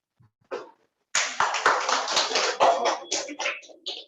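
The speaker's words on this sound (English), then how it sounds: "please give them a round of applause" Audience applause for a speaker coming on stage at a youth leadership program's concluding session: a brief early clap, then a burst of steady, dense hand-clapping from a crowd that carries on to the end, no voices.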